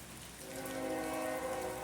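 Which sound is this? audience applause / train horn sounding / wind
train horn sounding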